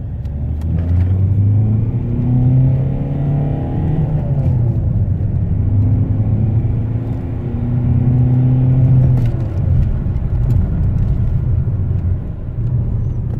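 A Ford Mondeo engine revs hard under acceleration, a loud sustained roar that rises in pitch, eases and climbs again over road rumble, with no talking.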